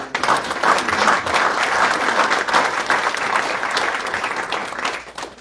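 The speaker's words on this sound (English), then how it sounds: "I would like to give a big round of applause both for our school retirees and our educational support professionals" A school board meeting audience gives a warm round of applause for school retirees and educational support professionals, dense clapping that holds steady and then tapers off at the end.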